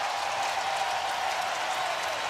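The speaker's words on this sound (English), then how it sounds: "The crowd comes alive at Oracle Park" Baseball crowd at Oracle Park during a Colorado Rockies at San Francisco Giants game, a broad steady roar of cheering and applause filling the ballpark, loud and unbroken.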